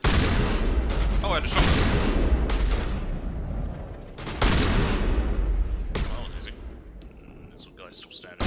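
Gunfire in the Mass Effect video game, heavy bursts of repeated shots and blasts that come loud and close in several waves with short lulls between them, and faint voices in the mix.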